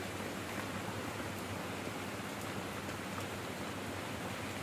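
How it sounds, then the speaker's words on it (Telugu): Heavy rain pours down as a dense, constant broadband roar with faint scattered drop ticks, steady and unbroken with no voices. "మొత్తం అంతా వర్షం అయితే బాగా ఎక్కువగా వస్తుంది"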